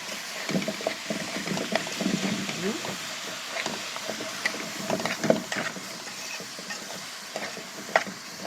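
Kofta cooking in a pot on a gas stove gives off continuous bubbling and stirring noise, with frequent small clinks and scrapes of a utensil close by.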